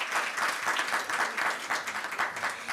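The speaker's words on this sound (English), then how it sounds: "A round of applause, please." Applause for a speaker at a plenary session, a steady fairly faint patter of many hands clapping throughout, with no talk over it.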